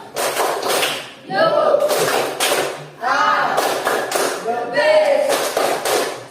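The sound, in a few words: classroom 'tepuk salut' rhythmic clapping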